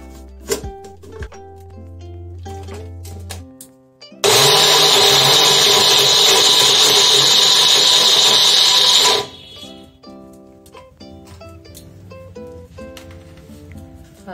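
A blender whirs loudly for about five seconds, blending strawberry, banana, honey and milk, a steady, harsh motor roar that starts and stops abruptly between quieter moments of background music.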